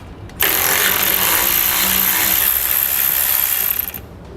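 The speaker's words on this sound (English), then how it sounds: "I'm going to take a 13mm socket and pull those off." A power tool fitted with a 13mm socket spins nuts off U-bolts while fitting a steering stabilizer on a 2017 Jayco motorhome, giving one loud, steady whir of about three and a half seconds with no talk.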